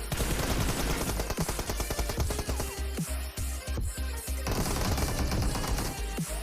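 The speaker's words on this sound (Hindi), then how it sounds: "बहुत देर से फायरिंग का साउंड आ रहा था" Gunfire in the mobile battle royale game PUBG Mobile, with dense overlapping rapid bursts of automatic shots and sharp cracks that keep going across the whole stretch, loud and continuous, with no voices.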